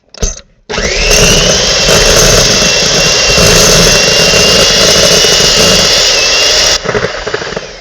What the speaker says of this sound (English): we're going to leave the mixer on